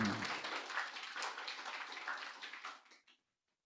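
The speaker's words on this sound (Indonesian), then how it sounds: "Tepuk tangan." An audience at a student orientation leadership session claps together in a dense, fairly distant patter for about three seconds, then stops abruptly into silence.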